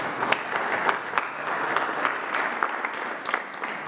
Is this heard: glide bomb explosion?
no